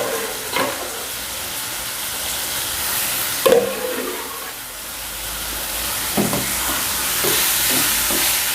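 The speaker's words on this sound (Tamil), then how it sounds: "இந்த வெங்காயம் தக்காளியோட இந்த நுரையீரலை நல்லா மிக்ஸ் பண்ணிக்கணும்" Boiled goat lung and chana dal stirred into onion and tomato in a hot pan, a close sizzle with a few sharp scrape and clatter hits of the spoon against the pan, and no talking.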